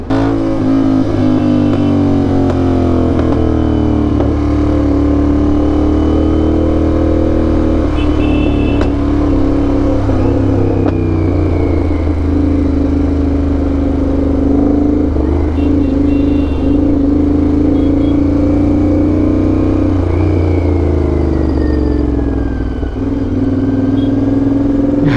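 A motorcycle engine hums and thrums steadily while riding on the road, a loud sustained drone with slight rises and dips in pitch as the throttle changes, heard close with wind noise and no talk.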